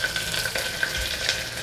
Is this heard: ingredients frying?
yes